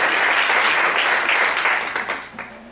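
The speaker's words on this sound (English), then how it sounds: "Let's give them a quick applause." Audience applause at a talk on face reading, a dense wash of many hands clapping together, loud and steady before thinning out toward the end.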